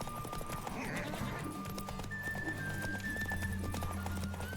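Roach, Geralt's horse in The Witcher 3, trots with steady rapid hoofbeats close by, while a brief whinny rises early on and game ambience and tones hum underneath.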